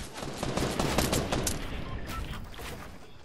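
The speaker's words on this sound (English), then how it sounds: "A dragon snap rifle." Rapid gunfire from a dragon snap rifle in a video game, loud dense bursts of shots running throughout with little pause.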